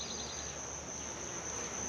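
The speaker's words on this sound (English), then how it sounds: "Plenty of bees out there." Honey bees buzzing around apiary hives on a farm, a steady, fairly faint hum with a high insect whine held throughout, no voices.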